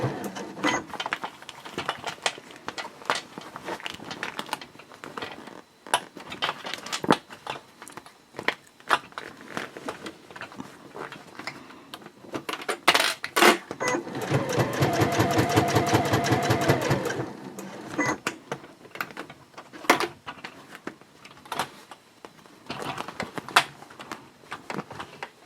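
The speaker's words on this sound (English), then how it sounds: "I do have a free arm on this sewing machine" A free-arm sewing machine stitches a clear vinyl project pouch sewn in the round, with scattered clicks and handling, then a steady rapid whir of stitching for a few seconds midway, close and fairly loud.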